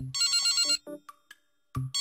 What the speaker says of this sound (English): It's my S-gear ringing?